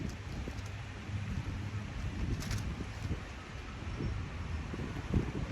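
Steady gusty wind buffeting an outdoor microphone, a constant rumbling roar with low thumps and brief rustling bursts, no voices.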